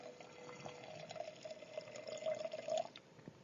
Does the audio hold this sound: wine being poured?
yes